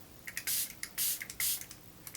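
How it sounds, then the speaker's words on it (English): A pump bottle of salty watermelon-scented beauty mist is sprayed into a hand in three short hissing bursts, close and crisp, with faint clicks of the pump between them. "and spray it in my hand"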